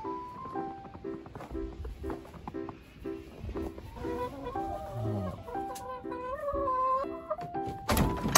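Chickens cluck steadily in fresh snow on the season's coldest day at a rural coop, repeated short harmonic clucks close by with a few soft thumps and a louder knock near the end.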